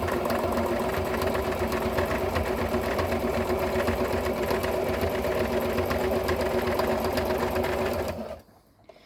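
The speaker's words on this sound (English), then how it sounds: "So we're going to sew down this seam." A sewing machine stitches steadily down a seam of a Regency-style reticule, a loud continuous mechanical whir at a close distance that runs for about eight seconds before stopping abruptly.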